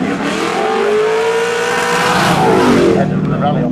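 A rally car at a live rally stage during the Race Retro show revs hard and accelerates past, engine pitch rising and sweeping, loud and close, with a commentator's voice talking over it.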